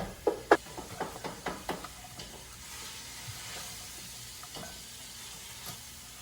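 Ground beef frying in a pot and being broken up, with a series of close scraping and tapping strokes of a utensil at the start over a steady soft sizzle that continues alone.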